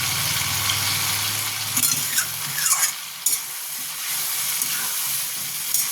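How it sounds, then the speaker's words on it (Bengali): Potatoes and drumstick pieces sauté in a hot pan with a steady, close sizzle and hiss, broken by a few short scraping stirs. "দেখুন আমার এরকম কষতে কষতে আলুগুলোও সেদ্ধ হয়ে যাবে, সজনে ডাঁটাও সেদ্ধ হয়ে যাবে।"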